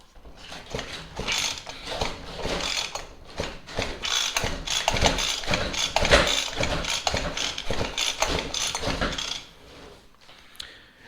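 A steady, rattling mechanical whir as the starter cord of an old Craftsman hedge trimmer's small engine is pulled repeatedly, ratcheting and clattering for several seconds before trailing off.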